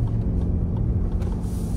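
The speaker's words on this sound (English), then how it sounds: "All I can hear is a little bit of tyre noise" Low, steady road rumble of tyre noise heard from inside a Lexus RX 450h+ plug-in hybrid SUV with a 2.5 four-cylinder, a soft continuous drone with no voices over it.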